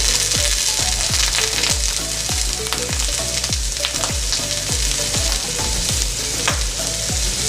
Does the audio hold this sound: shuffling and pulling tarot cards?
no